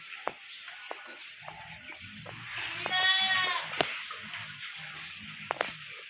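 A sheep bleats once, a wavering call in the middle, amid scattered knocks and low shuffling noise of a farm shed pen.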